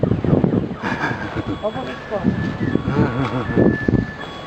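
A truck reverses with repeated steady backup beeps at a busy outdoor market, with engine rumble and people talking over it.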